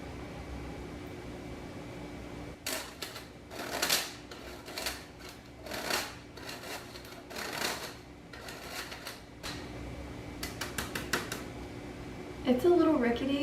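An old, slightly rickety hand-crank flour sifter, a great-grandmother's heirloom, rattles in bursts of fast ticking, scratchy cranking as flour sifts into a bowl, close and fairly loud over a low steady background hum.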